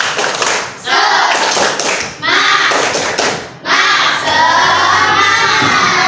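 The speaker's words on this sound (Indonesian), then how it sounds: "Tepuk semangat." A class of schoolchildren performs the tepuk semangat clapping routine, loud rhythmic bursts of clapping in several bursts broken by short pauses, mixed with children's voices.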